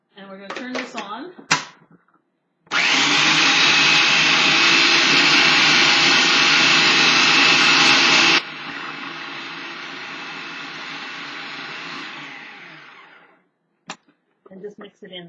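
A blender mixing a chocolate fermented treat roars loudly for about six seconds, then drops to a lower, steadier whir before stopping. Brief clatter comes before and after the motor runs.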